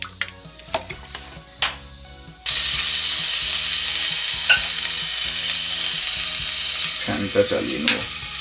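Oil poured into a hot wok for cooking crab bursts into a loud, steady sizzle that carries on to the end, following a few quiet clinks and taps from the kitchen.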